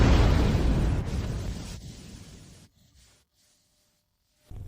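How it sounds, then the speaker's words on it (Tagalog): A batch of pills bursts inside a magical alchemy pot: one loud, booming blast that rumbles and fades over a couple of seconds into near silence, with a faint sound returning at the end. "Ang unang batch ay sumabog na."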